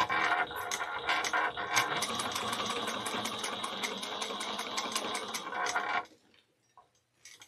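Sewing machine top stitching a circle bag at an eighth of an inch, whirring in a steady run for about six seconds before stopping abruptly, then a few faint handling noises; close and alone without talk.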